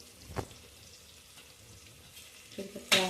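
Curry leaves drop into hot oil with a faint crackling sizzle, a soft clink early on and a sharper burst of spitting and clatter at the end, with a brief voice in the background.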